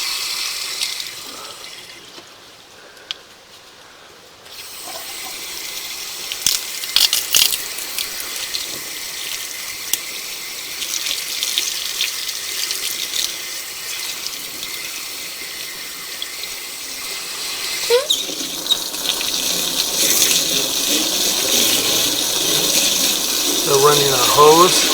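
A hose runs water into a drain thick with solid black grease, a steady close rushing and splashing that goes on throughout, swelling and turning more gurgly near the end, with people talking over it.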